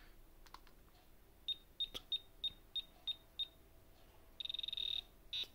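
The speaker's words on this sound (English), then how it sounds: "got the Genesis startup sequence as well" Egyptian scarab-beetle novelty timer playing the Sega Genesis startup sequence as a series of short, thin electronic beeps in a steady rhythm, then a longer warbling tone, faint and alone.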